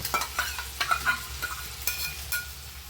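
Ground spice paste frying in oil for a bottle gourd and poppy seed dish, a soft sizzle broken by a series of scraping stirs in quick irregular bursts, close and fairly quiet.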